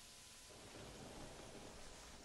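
Steady rain hisses with a low rumble of thunder in the video game Terraria, a faint continuous wash with no talk over it.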